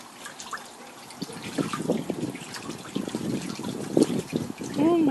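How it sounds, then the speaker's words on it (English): Mallard ducks splash and bathe in water, with irregular close sloshing and dribbling sounds that build toward the end, while a person talks encouragingly over the splashes. "Play in that water, play. Oh yeah, that water feels good."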